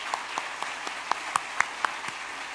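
A church congregation at an afternoon Sunday service claps together in a steady, moderately paced applause heard from a distance, fairly soft and without talk over it.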